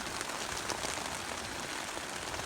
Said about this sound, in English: if you get rain like this and it starts hitting the tent